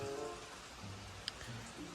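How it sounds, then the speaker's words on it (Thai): Rain falls steadily at a rural garden house in the early morning, a soft, quiet, even hiss with a faint tap or two and no voices. "นี่บรรยากาศฝนตก"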